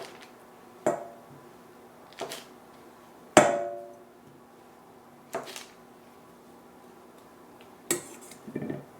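A knife cuts soft butter into chunks on a hard surface while baking a plum torte, giving sparse, separate taps and clacks with quiet gaps between them, one knock louder than the rest.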